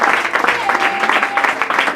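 Church congregation at a seminar applauding and cheering in praise of the Lord, a dense, steady wash of clapping mixed with voices that holds loud and close for the whole moment.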